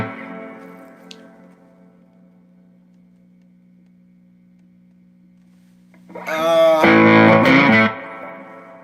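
An electric guitar played through a Sword STR Tremolo amplifier with onboard reverb and tremolo: a sustained chord rings and slowly decays, then a louder, distorted burst of strummed notes swells in near the end.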